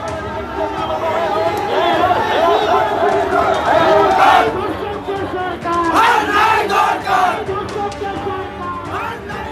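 Trinamool and BJP supporters at rival processions chant slogans against each other, a loud crowd yelling in surging waves close by, with mixed shouting throughout.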